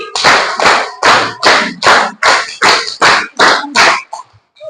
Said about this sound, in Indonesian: Satu kali lagi, tepuk 5 2 kali